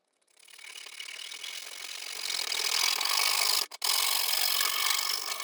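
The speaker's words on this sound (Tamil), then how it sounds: "இப்போ நம்ம மார்க் பண்ண இந்த இடத்த தனியாக கட் பண்ணி எடுத்துடலாம்" A hand saw or file cuts through a marked section of pipe while a birthday-celebration tool is being made, giving a steady, close rasping stroke that builds in loudness and breaks off briefly before carrying on, with no talk.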